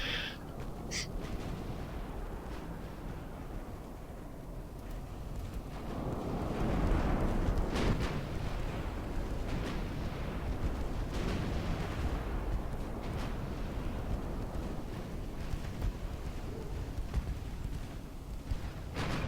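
Naval gunfire in Ultimate Admiral: Dreadnoughts rumbles as heavy, continuous booming with scattered sharper reports, a loud dense barrage swelling midway and holding steady.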